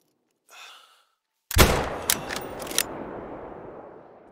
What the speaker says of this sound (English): I love the sound of this gun